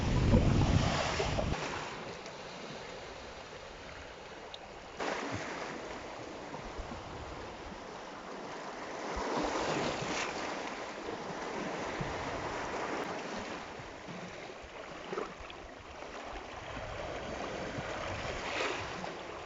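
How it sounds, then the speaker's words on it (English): Calm sea heard from aboard a boat on a sunny day: soft steady wash of water and wind noise against the microphone, faint and continuous, with gentle swells of louder rushing. "As you can see, the sea's pretty calm today."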